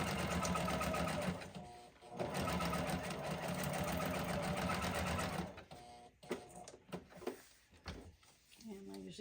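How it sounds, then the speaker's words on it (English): A sewing machine stitches a wavy line across a junk journal, running in sustained mechanical bursts of rapid whirring with a brief pause, then stopping and starting in short clicks and stutters near the end. "when I'm sewing this, I'm just making a wavy line"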